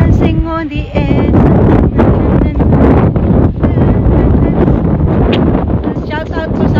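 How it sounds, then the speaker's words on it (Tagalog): Heavy wind buffets the microphone at the Porteau Cove shoreline, a loud, unbroken rumble throughout, with faint voices and brief tonal sounds partly buried in it. "Ang lakas po ng hangin."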